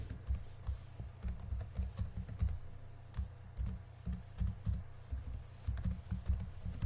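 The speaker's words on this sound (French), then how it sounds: "Donc moi, je vais taper mon adresse." Someone types an email address on a computer keyboard: a quick, uneven run of close, light key taps and clicks with short pauses and no voices.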